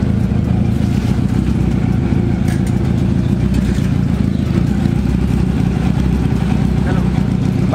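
A motorcycle engine idles after warm-up, a steady, close, low rumble that continues evenly without pauses and without any talk.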